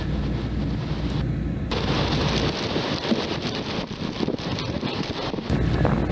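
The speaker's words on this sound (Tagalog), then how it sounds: "since malakas ang hangin dito sa taas" Strong wind up high at a rooftop work spot during an air horn solenoid repair, buffeting the microphone in a dense, continuous roar with gusty surges and rattly bursts.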